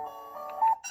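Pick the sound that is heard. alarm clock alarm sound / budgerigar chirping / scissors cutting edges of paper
alarm clock alarm sound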